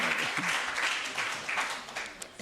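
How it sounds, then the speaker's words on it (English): Applause from the audience at a university research and innovation week event, a short burst of many hands clapping that tapers slightly. "you can give us a round of applause for that"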